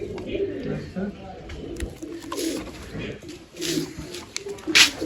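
Pigeons coo repeatedly in a loft where birds are being fed and watered, their low rolling calls running through the scene with chirps and handling noises, while someone talks nearby.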